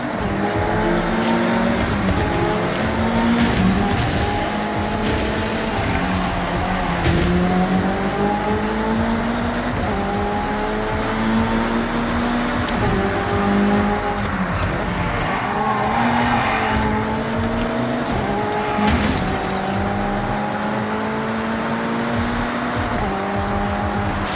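A race car in Forza Horizon 6 roars steadily and loudly throughout, engine pitch climbing and dropping through repeated gear shifts, with tyre squeal and skidding mixed in.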